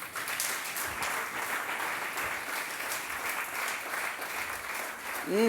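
A church congregation claps steadily in a sustained round of applause, dense and continuous throughout, with a voice briefly rising at the very end.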